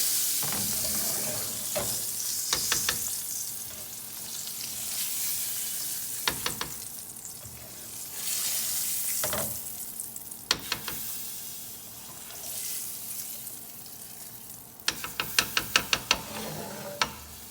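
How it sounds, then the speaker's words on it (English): Food being stirred in a skillet, with a steady hiss of sizzling underneath and sharp clusters of spoon scrapes and taps against the pan that come in bursts, the busiest near the end. "I'm gonna stir it up."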